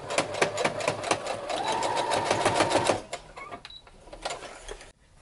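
Sewing machine stitching the top onto a fabric piece, a close rapid mechanical whir and clatter running for about three seconds, then slowing into a few scattered clicks.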